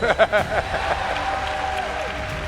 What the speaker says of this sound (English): You should clap for me right there